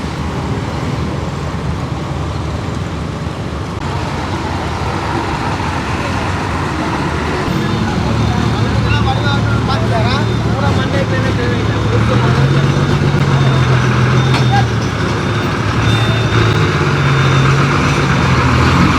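City bus on route B40 pulling in through steady roadway traffic, with a low engine drone rising and holding amid passing vehicles while voices talk throughout.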